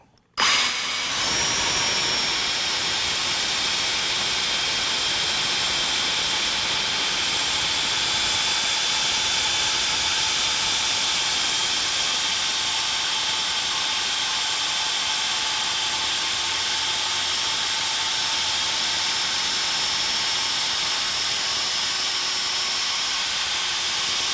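A Flex machine polisher with a foam pad runs on car paint, producing a steady, loud high-pitched whine and hiss that holds constant throughout after a brief start.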